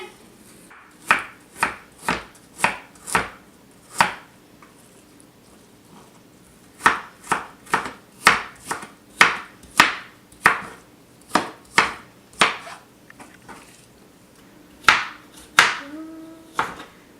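A knife chops Asian pear for vegan kimchi on a board in a steady run of sharp, close strikes, a short pause and then more rapid chops, with no talking.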